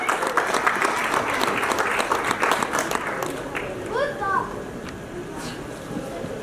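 An audience claps loudly and densely at a stage honouring event, then the applause fades out into a quieter room with a few scattered sounds.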